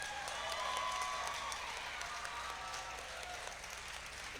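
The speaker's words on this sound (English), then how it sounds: "That's right, clap it up." An audience at a county teachers-of-the-year celebration claps steadily, a soft, fairly distant patter of many hands with a faint voice briefly audible in the room.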